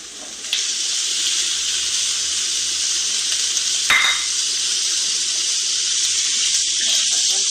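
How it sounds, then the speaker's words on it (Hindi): Beef pieces frying in a pan over already fried onions, a loud steady hiss of sizzling oil throughout with a single sharp clatter near the middle. "गोश्त को अच्छी तरह फ्राई करेंगे"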